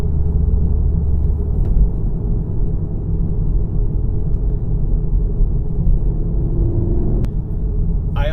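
A manual 2017 VW Golf R engine runs steady and loud from inside the cabin, a continuous low drone through gear changes with a brief click near the end.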